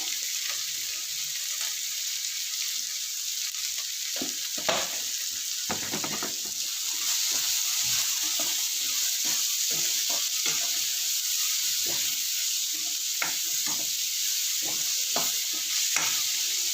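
Food sizzles steadily in a pan, potatoes sautéing for a kurma, while a utensil stirs and scrapes now and then, with no one speaking.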